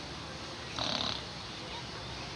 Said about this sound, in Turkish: Horluyorum, horluyorum.